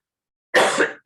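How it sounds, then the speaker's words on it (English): A harsh, close cough from a man with a cold bursts out after a moment of silence, followed quickly by the start of another cough. "Because of this reason, this cough is coming."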